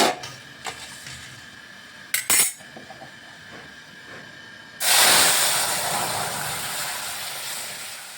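A few metallic clinks, then a sudden loud sizzle as lentils hit hot oil tempered with nigella seeds and chilies, hissing steadily and slowly fading.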